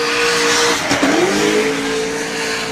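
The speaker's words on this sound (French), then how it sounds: "Elle chante la GT86." A Toyota GT86 drift car revs hard during a Drift France 2024 competition run, its engine holding a loud sustained note, dipping briefly with tire noise, then climbing back to a steady wail.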